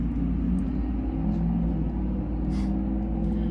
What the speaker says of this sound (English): Oh wow, that truck was loud though